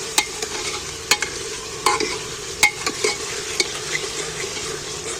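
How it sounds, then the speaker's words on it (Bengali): Ginger, garlic and onion frying in oil for a mutton curry, a steady close sizzle with several sharp clinks and scrapes of a spoon stirring against the pan. "আদা রসুনটাকে তেলের মধ্যে তেল পেঁয়াজ পেঁয়াজের সাথে ভালো করে কষিয়ে নিচ্ছি"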